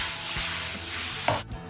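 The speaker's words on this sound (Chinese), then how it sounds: "肉片下锅，锅边淋点料酒。" Pork slices and shiitake mushrooms stir-fried in a wok over high heat: a loud sizzle with spatula scrapes and tosses, then a sharp hiss burst near the end as liquid hits the hot pan.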